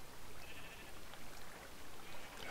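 Minecraft sheep bleat softly in the game, with a few faint calls over a steady background hiss.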